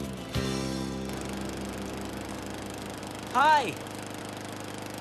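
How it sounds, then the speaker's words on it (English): A lawn mower engine drones steadily at a moderate distance, its buzzing tone holding throughout while a voice calls out a brief greeting partway through. "You're mowing the lawn."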